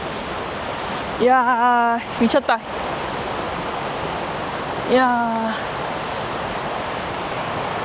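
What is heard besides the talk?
huge waterfall roaring, Oirase Stream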